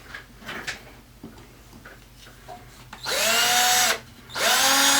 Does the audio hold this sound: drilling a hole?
yes